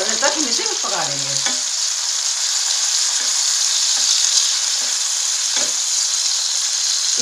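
Onion and tomato with salt fry loudly in a pan for mixed vegetable sabzi, a dense continuous sizzle with a few squeaky spatula scrapes at the start and light stirring taps later.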